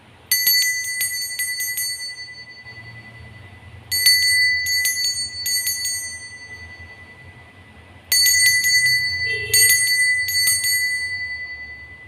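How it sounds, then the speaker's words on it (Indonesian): Small bell rung in three separate bursts of quick bright strikes, each ringing out and fading over a soft low background, marking the start of a Chinese zodiac Rooster card reading. "Kita akan memulai dengan ditandai lonceng berbunyi."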